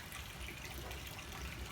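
Water trickles steadily from a tap at the side of a house in the Philippines, a soft, continuous, fairly faint running sound with no talking.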